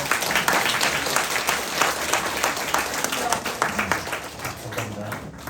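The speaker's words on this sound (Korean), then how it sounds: "우리 청년들에게 박수 한번 쳐주세요" A church congregation at Saturday prayer applauds the young people, steady dense clapping filling the room, moderately loud, with voices mixed in.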